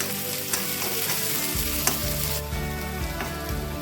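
Onion, curry leaves and long-sliced green chillies fry in a pan with a loud, continuous sizzle, broken by a few scraping stirs in the second half.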